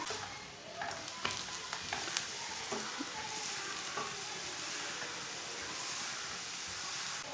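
A methi paratha cooking in oil on a hot pan, with a soft, unbroken sizzle and hiss throughout and a few light scraping clicks early on.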